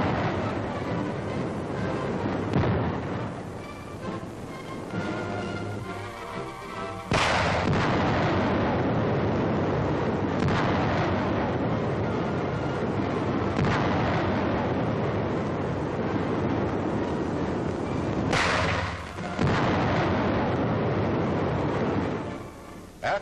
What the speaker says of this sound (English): The final phase of the test is firing the same number of high explosive filled rounds at the figures in an